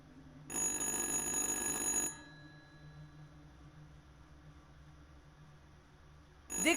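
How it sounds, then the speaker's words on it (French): In the video game Little Hope, a telephone rings loudly and steadily for about a second and a half, then stops, leaving a low ambient hum before another sharp sound cuts in at the end. "Décrochez ce téléphone."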